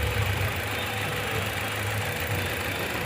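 A Toyota Altis engine idles steadily with a cylinder 1 misfire, giving a close, continuous low rumble with an uneven, knocking pulse and no voices.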